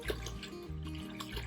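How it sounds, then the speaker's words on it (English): Roughly a gallon of water pours steadily into a pot to make a cold brine, a continuous close splashing and gurgling that lasts the whole moment with no talking. "And then we're going to put in roughly a gallon of water."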